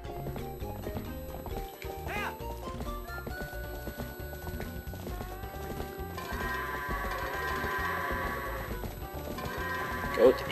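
Goats bleat and horse hooves clip-clop amid game music in Zelda: Twilight Princess, the animal calls fairly faint and mixed under a steady soundtrack with a voice talking over it.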